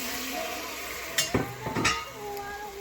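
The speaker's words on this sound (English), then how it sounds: "We're going to dump a little wine in here." Wine poured onto sautéed vegetables in a pot of lentil stew with chicken thighs, giving a soft, steady sizzle with a couple of sharp clanks of a utensil against the pot partway through.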